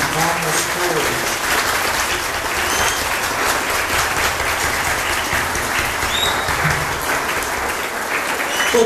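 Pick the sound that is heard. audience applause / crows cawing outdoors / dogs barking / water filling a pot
audience applause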